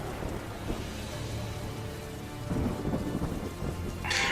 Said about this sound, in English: It's kind of hard to hear over the wind and the rain